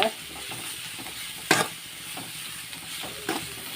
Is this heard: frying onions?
yes